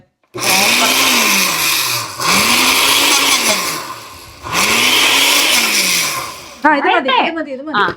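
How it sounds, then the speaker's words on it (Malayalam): A juicer grinds spice paste for kappa (tapioca) in a home kitchen, three loud whirring bursts with rising and falling motor pitch and short pauses between them, followed by a brief stretch of talking at the end. "അപ്പൊ ഞങ്ങൾ ജ്യൂസറിലാണ് കപ്പയ്ക്കുള്ള അരപ്പരയ്ക്കുന്നത്"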